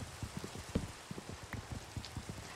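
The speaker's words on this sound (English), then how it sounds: "Is it raining? I hate when it rains. Makes everything so wet." Rain falls in a Minecraft-style block-building survival game, a steady patter of drops with brief low thuds running alone through the scene.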